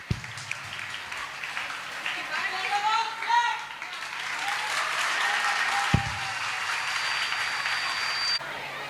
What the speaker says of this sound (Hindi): please give a thunder round of applause for our cute little fairies